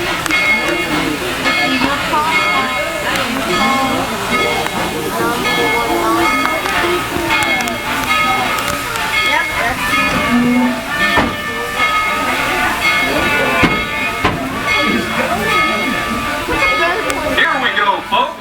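A Tweetsie Railroad steam train pulls out of town with a loud, steady steam hiss and whistle-like tones that carry throughout.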